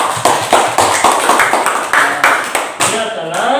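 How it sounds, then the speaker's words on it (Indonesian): Classroom applause: a group of students claps in loose, rhythmic bursts after a presentation, fairly close and loud, with a clear beat pattern that fades near the end. "Tepuk tangan dulu."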